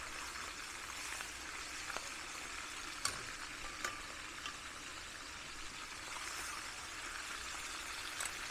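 Pork chops fry in a pan in a steady, fairly faint sizzle with a few small pops and crackles scattered through, and no talking.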